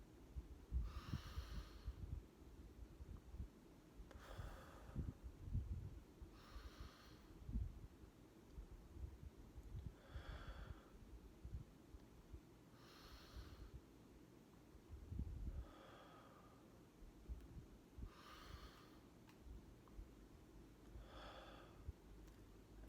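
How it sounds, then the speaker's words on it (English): Slow, steady breaths drawn in and let out during a meditation exercise, faint and close, repeating in regular cycles a few seconds apart with no other sound. "a very basic exercise is to just inhale and exhale"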